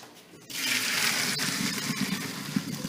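Cooked pasta for seafood mac and cheese is poured into a strainer, and after a brief quiet moment a loud, steady rush of water pours off continuously, with small clatters near the end.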